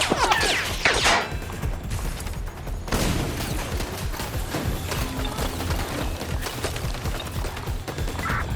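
Bursts of gunfire in Watch Dogs: Legion crack and rattle early on, followed by sustained chaotic game noise with impacts and scattered shots at a steady, fairly loud level.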